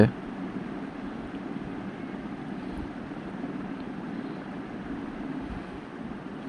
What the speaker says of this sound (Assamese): কি ধুনীয়া বতাহ দিছে